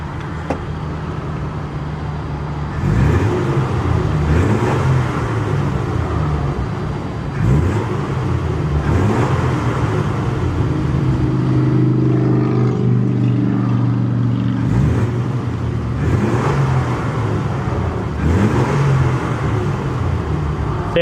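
A 1949 Dodge Coronet Gyro-Matic engine runs close by, a steady loud rumble broken by several throttle blips and revs, with one sustained rise in pitch near the middle; no talking.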